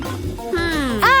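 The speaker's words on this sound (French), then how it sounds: "Mais où est-ce que je vais mettre mon chat?" A pet cat gives a couple of short, rising meows, the last one louder and sharper, indoors with faint voice-like sounds in between.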